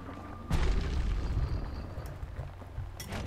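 A hand grenade blowing up in the Bastion video game, a sudden deep boom that rumbles on and slowly fades, with a few small pops afterward.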